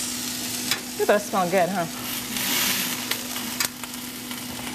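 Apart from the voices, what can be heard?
pork chops sizzling in a pan as they are flipped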